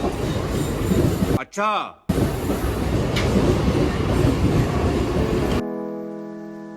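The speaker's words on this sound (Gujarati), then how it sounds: "ચલો અહીં લોકલ ટ્રેન છે આ." A Mumbai local train runs steadily with loud rumbling and clattering wheels. Midway comes a brief squealing sweep, and near the end a sustained electronic tone takes over. A voice speaks briefly.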